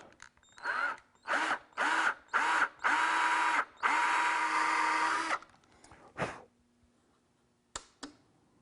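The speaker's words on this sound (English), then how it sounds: "I'm going to drill my holes in the doors" A power drill whirs in several short bursts, then one longer run, close and loud, drilling holes in wooden cabinet doors, with brief pauses between and a few clicks at the end.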